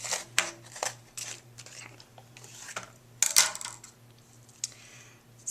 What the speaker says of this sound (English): So I'm just going to kind of roughly cut an approximate size